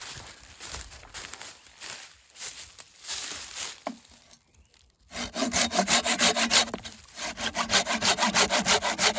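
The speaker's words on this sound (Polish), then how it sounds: "Przetestujemy piłę." A hand saw rasps back and forth through wood in steady, rapid strokes, close and loud, after a brief pause in the sawing.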